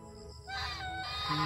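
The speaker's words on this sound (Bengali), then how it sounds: "তো এইখানে রয়েছে রাজহাঁস" Geese at Parimal Kanan park near Chandrakona Road give a brief burst of nasal honking calls at moderate distance, standing out clearly above the outdoor background.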